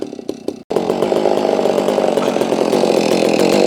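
A Holztfforma G660 chainsaw with a rough-running engine idles loud and close after a brief cut-out, a steady buzzing drone with a rapid firing rhythm and no speech.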